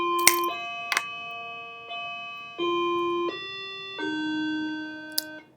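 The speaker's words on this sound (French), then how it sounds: "j'ai entendu la cloche de fin de classe" A school bell sounds a chiming series of sustained electronic tones at changing pitches, marking the end of class, loud and clear with a few sharp clicks between the notes and no talking.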